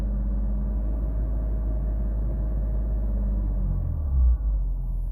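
A Ram 1500 with the HO Hurricane inline-six idles low and steady while power braking in drive, then a brief swell and dip near the end as the turbos start building boost; no talking.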